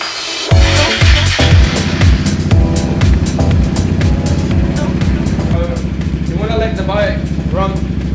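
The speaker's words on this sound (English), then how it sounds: "Okay, let's now run the scooter," A Vespa GTS large-frame scooter engine, freshly given an oil change, starts up and runs at a steady idle, a loud, close, continuous drone with faint talk over it.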